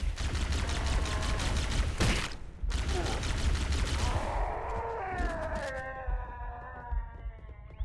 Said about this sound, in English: How did this guy not hear the gunfire?